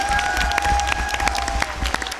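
An audience at a BronyCAN 2014 convention panel applauds, a dense steady patter of many hands clapping close by that fills the whole moment with a low hum beneath it.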